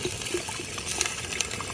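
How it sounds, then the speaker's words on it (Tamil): A litre of water is poured into a pot of basmati rice chicken biryani, giving a steady, close, hissing gush with no voices. "அடுத்து 1 லிட்டர் தண்ணி ஊற்றியாச்சுங்க உள்ள."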